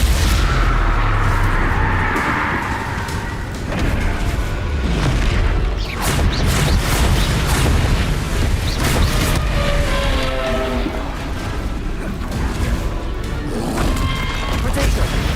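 Bombarda explosion spell from Hogwarts Legacy: heavy booming blasts and crashing impacts, loud and close, repeated over a dense layer of game effects, with a voice speaking at times.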